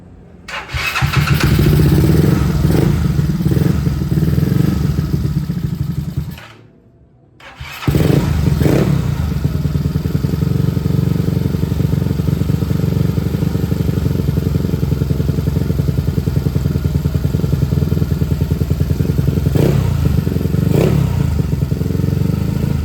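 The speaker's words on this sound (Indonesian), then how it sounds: "jadi tadi kita udah dengerin suara knalpotnya gimana yang terbaru" A Yamaha Mio Smile scooter engine runs loud and steady with a rumbling exhaust, briefly cutting out and restarting, then idling and revving on.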